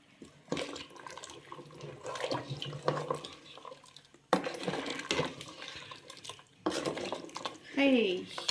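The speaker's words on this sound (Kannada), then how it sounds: "ನಮಗೆ ನೀರು ಎಷ್ಟು ಬೇಕೋ ಒಂದು ಅದಕ್ಕೆ ನೀರು ಹಾಕೊಳ್ತಾ ಇದ್ದೀನಿ." Water poured into a pot of mutton sambar, splashing and gurgling in several bursts close by with short pauses between, and a little utensil clatter.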